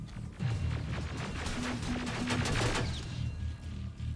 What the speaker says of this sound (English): We're all shooting each other up there